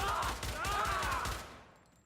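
Rapid bursts of weapon fire in the video game Syndicate crackle in a quick rhythmic volley, fairly faint, fading out after about a second and a half.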